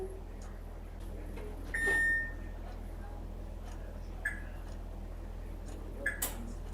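An oven control panel chirps while being set to 350 degrees, giving a few short, thin beeps spaced seconds apart over a low kitchen hum, with faint clicks between them.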